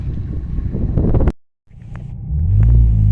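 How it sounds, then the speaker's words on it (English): A lifted two-wheel-drive Ford E350 Econoline van with a 5-inch suspension lift drives an easy off-road trail at Hungry Valley, giving a loud steady rumble with wind buffeting, a brief dropout, then a deeper surge of engine rumble. "So let's go ahead and go through an easy trail with my lifted van, 2-wheel drive."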